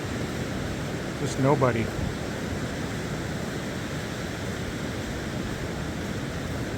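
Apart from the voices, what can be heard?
waves on a beach with sand dunes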